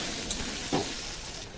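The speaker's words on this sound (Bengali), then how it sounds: "দিয়ে আলুটাকে ভেজে নেব।" Potato pieces fry in hot oil with turmeric and salt, giving a brief, moderate steady sizzle with a small crackle partway through.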